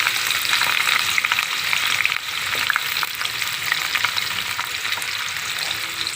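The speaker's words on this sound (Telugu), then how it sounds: "చూడండి, నూనె మరిగింది, ఉల్లిపాయలు వేస్తున్నాం, పచ్చిమిరపకాయ ముక్కలు, ఉల్లిపాయలు వేసాం కదండి" Chopped onions and green chillies frying in hot oil for an ivy gourd curry, a dense, steady sizzle close by with the scrape of stirring now and then, loud and continuous, with no voices.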